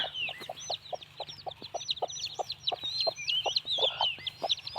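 A mother hen clucks in soft, regular pulses while newly hatched chicks cheep in high, rapid peeps throughout, close by with no talking.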